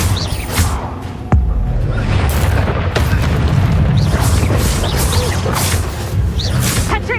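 A Confringo spell explosion in the Hogwarts Legacy video game, with a sudden loud boom followed by dense, continuous roaring and crackling battle noise, with whooshing bursts layered throughout.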